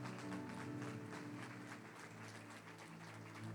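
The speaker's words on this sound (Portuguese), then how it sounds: "Dá uma salva de palmas para o Ministério Infantil," A church congregation applauds the children's ministry, with steady, dense clapping from many hands and a sustained tonal drone underneath, all fairly quiet and unbroken.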